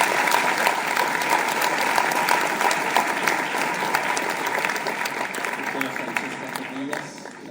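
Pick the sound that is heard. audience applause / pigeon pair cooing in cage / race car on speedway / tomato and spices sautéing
audience applause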